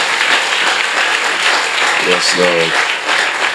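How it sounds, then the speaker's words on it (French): Steady, dense applause from a church congregation, with a voice briefly calling out over the clapping midway through. "on applaudit Jésus chaudement"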